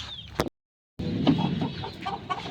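A rooster clucks in short, throaty bursts nearby, after a brief moment of complete silence.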